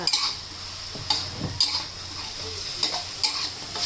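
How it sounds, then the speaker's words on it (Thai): Banana peppers and pork stir-fry in a pan, a close sizzling hiss punctuated by several sharp clanks of a utensil against the pan at irregular intervals. "เราใส่พริกหยวกนะคะลงไปค่ะ นี่ค่ะ ผัดค่ะ"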